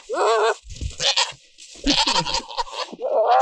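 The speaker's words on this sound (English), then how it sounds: "Stinky old billy goat." An old billy goat bleats several times up close, loud wavering cries separated by short pauses, with a few low thumps between calls.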